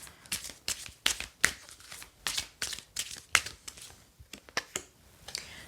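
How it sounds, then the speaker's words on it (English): Angel Oracle cards are shuffled by hand during a card reading, giving a run of quiet, close, irregular riffling and crinkling bursts with short gaps between them. "You can hear little bits of shuffling, but I'm doing Angel Oracle cards."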